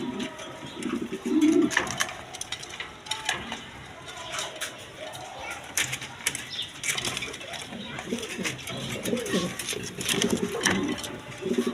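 A pair of Rajgolla pigeons cooing in repeated soft throaty bursts, close by, with a few wing flaps and someone talking over and between the calls.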